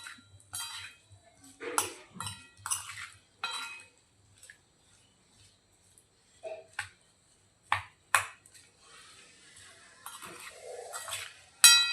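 A spoon scraping and clinking against a bowl while turmeric and red chilli powder are mixed for homemade lemon pickle, scattered short metallic taps and scrapes at close range between quiet pauses.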